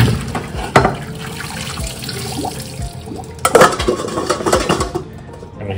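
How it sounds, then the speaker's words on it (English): Boiled potatoes are strained from a pot in a kitchen, with water pouring and splashing while the metal pot clanks and knocks against the sink in several sharp bangs, close and moderately loud, with no talking. "so we're just going to strain our potatoes"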